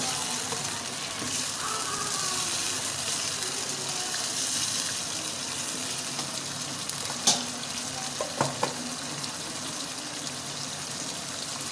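Slit green chillies fry with yogurt in a bhindi gosht curry, giving an even bubbling sizzle with a few sharp clinks near the end and no talking.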